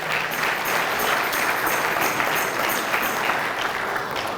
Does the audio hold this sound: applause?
yes